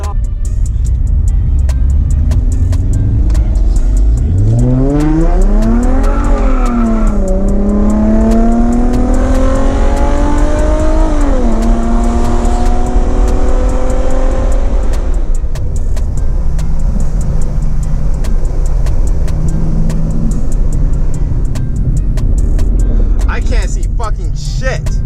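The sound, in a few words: loud V8 car revving and accelerating at car meet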